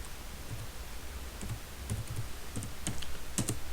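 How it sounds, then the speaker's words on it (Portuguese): Typing on a computer keyboard, a quiet, irregular run of light key clicks close by over faint background hiss, with no talking. "Então vamos digitar isso aí"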